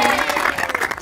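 Audience applause at a live comedy stage show, a brief dense patter of many hands clapping together, steady and fairly loud for about a second.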